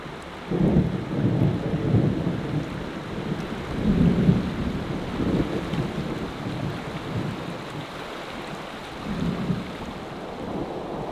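Thunder rolls and rumbles in repeated heavy swells over a steady wash of falling rain during a thunderstorm at a camp in the Tetons, with no voices.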